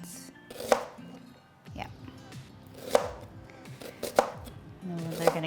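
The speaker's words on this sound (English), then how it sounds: "Very thinly sliced onions." A knife thinly slicing onions on a cutting board for caramelized onions, with a few sharp chops and softer slicing strokes at an uneven pace, close and clear, while a voice briefly speaks.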